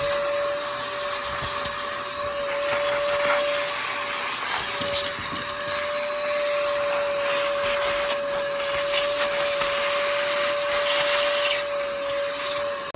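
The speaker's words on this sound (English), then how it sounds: "Again, vacuum." A vacuum cleaner runs steadily and close while it cleans out window tracks, a continuous high whine with a faint suction rush that holds unbroken throughout.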